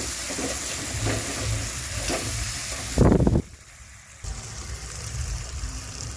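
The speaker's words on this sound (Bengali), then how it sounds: "আলুগুলো ছেড়ে দিচ্ছি। আলুগুলো দিয়ে ভালো করে নাড়াচাড়া করে কষিয়ে নেব।" Potatoes drop into spice masala frying in oil, so a steady sizzle turns to a loud burst of hissing, then a quieter lull, and the frying returns, close and continuous, with no talk.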